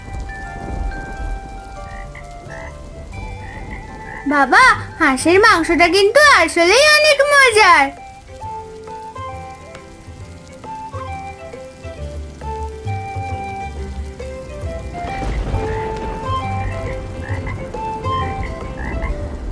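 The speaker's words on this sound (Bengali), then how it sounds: "দেখ, বাইরে কত বৃষ্টি, কিন্তু আমার ঘরে আজ কত শান্তি।" In a Bengali fairy-tale cartoon, rain patters steadily outside while frogs break into a loud, close chorus of croaks for a few seconds in the middle. The rain continues softly afterwards, and a character speaks over the scene.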